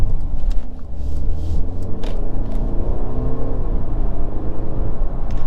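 A 2022 Mercedes C300 4matic accelerates along a road, its engine rumbling and building with a steady whirring drone heard from inside the cabin, with no talk over it.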